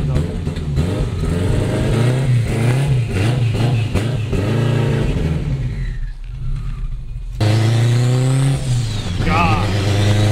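A straight-piped 800HP AWD turbo 2002 Acura RSX Type-S pulls away on a cold day, its loud engine revving and climbing through gears with a brief lift-off lull before another harsh, rising surge, close and raw.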